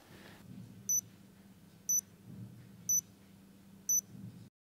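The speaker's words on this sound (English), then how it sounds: "The patch pump will beep 4 times." A Nano insulin patch pump gives four short, high, evenly spaced beeps about one second apart, clear over a quiet low hum.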